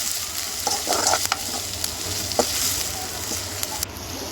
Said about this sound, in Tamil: இந்த வெங்காயம் சேர்த்து நல்லா வதக்கிக்கலாம்